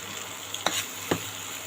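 A spicy mushroom curry made without ghee, onion or garlic sizzles softly in a pan. The frying hiss is steady and gentle, broken by two quick scraping stirs, with no talking.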